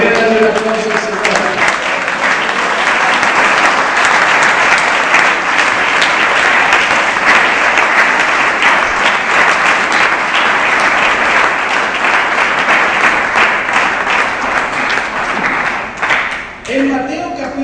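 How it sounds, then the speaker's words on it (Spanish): A church congregation breaks into loud, sustained applause that fills the room for about sixteen seconds, dense and steady, then thins and stops, with a faint voice surfacing at the very start and end. "¿Quiere darle un aplauso al Señor?"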